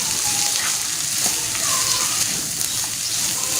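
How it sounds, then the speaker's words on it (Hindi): Chopped onions cooking in a pan with lentils and chicken, giving a steady, loud, dense sizzle throughout with faint scraping underneath. "तो हम इसमें प्याज शामिल करेंगे जो हमने चॉप किए हुए थे। इसको भी हल्का सा कुक करना है।"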